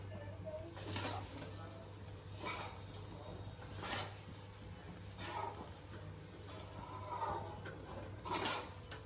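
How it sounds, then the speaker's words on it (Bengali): Fried rice mixture with ground garam masala being stirred in a pan, a soft ongoing sizzle broken by repeated scraping strokes of the spoon about every second or two, close and fairly quiet. "এবার পুরো মিশ্রণটাকে আমি মিশিয়ে নেব।"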